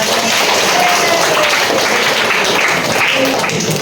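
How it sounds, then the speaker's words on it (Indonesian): Children clapping together in a classroom, a dense, steady wash of applause that fills the whole stretch at fairly close range with no clear speech over it. "tepuk tangan semuanya."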